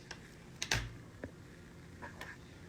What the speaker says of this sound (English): I'm having a tough time typing while I'm talking